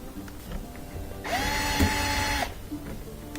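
A power drill spins a screw out of a dishwasher being taken apart to clear a clog, one close whirring burst of about a second that rises in pitch, then stops.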